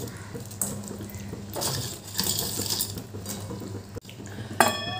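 Fried bean dumplings, made with asparagus beans, dropped into a pot of simmering gravy, giving several close clinks and clatters against the pot rim with a bubbling, sizzling background.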